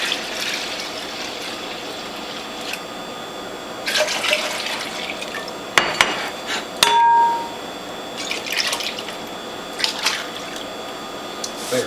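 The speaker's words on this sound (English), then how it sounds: "let's pour the pumpkin juice in there" Pumpkin juice poured into a larger collection bowl, a soft steady liquid pour punctuated by a few glassy clinks and clangs of the containers, close up with no talk.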